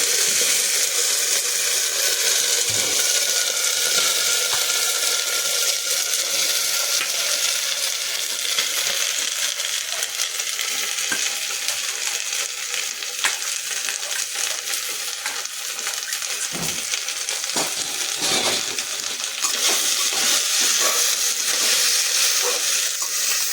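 Potatoes frying with ginger paste in a pan for vegetarian ghugni, a steady sizzling hiss with occasional stirring scrapes throughout, close and fairly loud, no talking.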